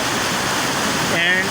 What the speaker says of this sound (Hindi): छम waterfall in Jhelum valley is a huge attraction for tourist in the reason